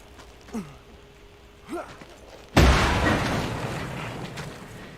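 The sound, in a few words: explosion in Mad Max video game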